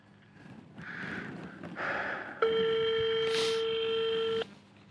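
A telephone call to an embassy: a few soft rustles and breaths, then a steady electronic ringing tone holds for about two seconds before cutting off, close and clear.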